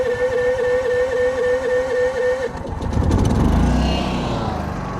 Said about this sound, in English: So let's start this generator up, get it warmed up, and we'll get going.